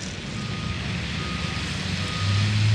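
A tow truck at a drag strip backs up with steady reversing beeps over a loud, constant low rumble of engines and open-air noise.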